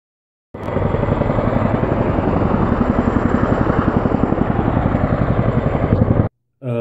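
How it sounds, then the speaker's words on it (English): A Chinook and another military helicopter hover overhead during the Trident Juncture 2018 exercise, a loud, steady rotor thump with a rapid rhythmic beat and engine roar that cuts off abruptly near the end. "Of a Chinook and another helicopter hovering over here and making a lot of noise."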